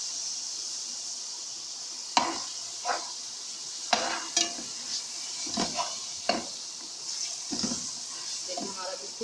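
Minced qeema frying with onions in a pan, a soft sizzle broken by repeated scraping stirs and spoon knocks, with some talk over it.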